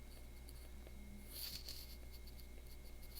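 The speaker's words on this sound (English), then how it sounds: "I'm going to write the chemical formula after the grams" A pen scratches out a chemical formula on paper, soft quiet strokes with a brief busier burst of writing in the middle, close and faint.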